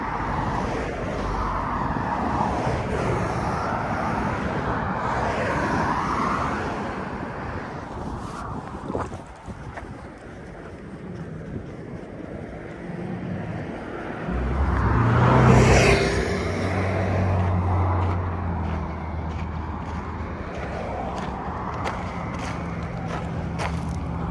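Outdoors in strong wind that buffets the microphone, a car passes by, its low rumble swelling briefly in the middle before fading back under the wind.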